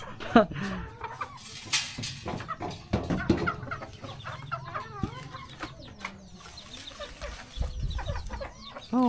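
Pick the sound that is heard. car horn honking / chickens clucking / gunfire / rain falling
chickens clucking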